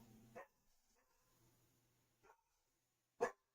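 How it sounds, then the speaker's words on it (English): A dog barks once, loud and sharp, near the end of a quiet stretch, preceded by a couple of faint, muffled sounds and low background hum. "I have no idea what she's barking about."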